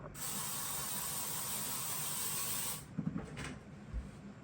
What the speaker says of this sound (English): while I spray some more air freshener